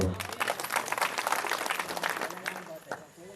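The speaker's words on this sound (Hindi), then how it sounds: "दानदाता के लिए जोरदार तालियां बजा दो।" A crowd at an Adivasi village gathering applauds loudly for a donor, with a burst of close, dense clapping that thins toward the end while a voice talks over it.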